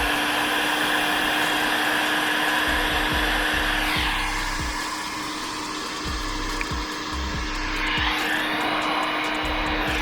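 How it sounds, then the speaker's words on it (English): A power inverter running from a 12V 100Ah lithium battery gives off a loud, steady electrical hum with a whining hiss, droning on without pause and dipping slightly in the middle. "Oh, that inverter sounds horrible"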